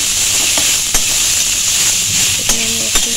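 Potatoes and vegetables sizzling steadily in a pan for lentil dal, a loud continuous hiss with occasional scrapes and knocks of stirring, no talk.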